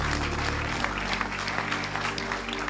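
A congregation applauds and cheers during a French-language prophetic church service, a dense, steady wash of clapping that fills the whole clip, with a low hum underneath.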